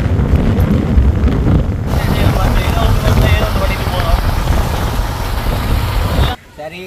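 Strong wind buffeting the microphone as a loud, continuous rumbling roar that cuts off abruptly near the end.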